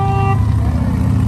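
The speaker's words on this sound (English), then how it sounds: "Give us some horn, please." A loud, close car horn blares in one steady, sustained honk that cuts off partway, leaving a low rumbling vehicle engine idling nearby at a roadside charity collection.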